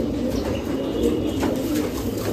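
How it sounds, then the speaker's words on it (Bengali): Pigeons of fancy breeds kept for sale coo softly and continuously in a low, steady murmur, with no voices over it. "সব বন্ধ দুমের পায়রা।"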